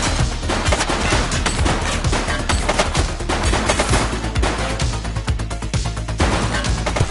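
Dense, continuous gunfire in the police video game The Precinct, with rapid automatic bursts and overlapping shots sustained loudly throughout.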